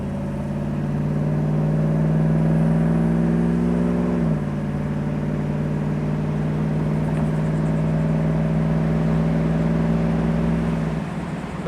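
A 1968 Chevrolet Camaro convertible engine pulls steadily through its gears, a close, loud droning hum that drops in pitch at one smooth shift, then holds an even cruising tone before easing off at the end.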